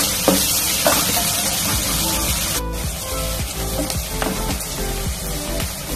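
Onion, garlic and ginger frying in a pan, a dense crackling sizzle with a few sharp stirring knocks.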